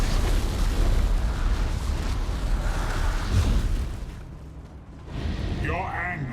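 A wall blown apart in a video game, a deep rumbling explosion with a long roaring tail that fades, followed by quieter game sounds and a voice.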